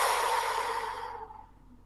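A slow exhale during a guided breathing exercise, a soft airy breath that fades out over about a second and a half, close and quiet with no talking.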